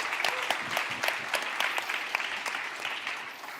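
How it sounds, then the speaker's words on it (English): Light hand clapping from a small group continues for a few seconds, soft and a little distant, with a faint murmur beneath. "I'm clapping. You don't have to clap."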